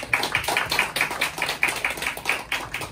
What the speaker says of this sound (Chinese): 给我们心爱老师一个最热情的掌声